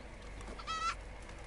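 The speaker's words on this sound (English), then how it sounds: "I think I just kicked a chicken." A chicken kicked in Red Dead Redemption 2 lets out a single brief, faint squawk over low background ambience, with no speech.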